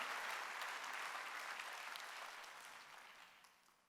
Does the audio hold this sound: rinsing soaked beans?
no